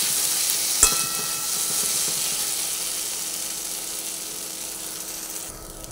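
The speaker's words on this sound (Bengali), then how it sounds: "মিশিয়ে ভেজে নিচ্ছি।" Tomato and onion stirred together and fried in a pan, a soft steady sizzle with scraping of the spoon and one sharp clink early on, fading slightly toward the end.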